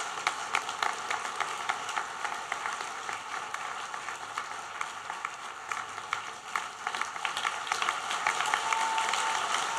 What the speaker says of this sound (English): We can have some more clapping in a minute.